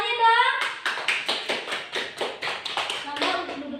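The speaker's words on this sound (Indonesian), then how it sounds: "Tepuk tangannya dong." A small class group at an end-of-semester exam presentation claps for about three seconds, with quick, distinct, moderately close claps in a loose rhythm that follows a brief spoken phrase.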